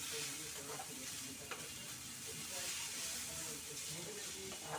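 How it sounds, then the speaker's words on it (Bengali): Salted chow noodles fry in a hot pan, giving a continuous sizzle and hiss with scraping stirring strokes throughout. "দিয়ে চাউটা একটুখানি ভেজে নেব।"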